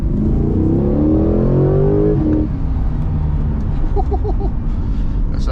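A Corvette C8 engine revs hard up close, its pitch rising over a couple of seconds before cutting back to a rumbling idle, with a few faint chirps afterward.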